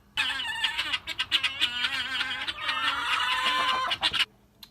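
Loud, harsh, rapid bird calls from guinea fowl, a continuous raucous chattering with brief breaks, close by and without any talking.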